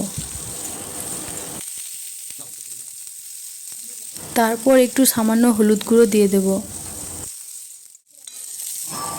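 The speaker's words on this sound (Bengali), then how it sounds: "তারপর ওই কড়াইয়ের মধ্যে একটু তেল দিয়ে পটলগুলোকে ভেজে নেব।" Pointed gourd frying in oil in a wok gives a steady hiss at the start and end. Someone speaks briefly in the middle while the sizzle drops away.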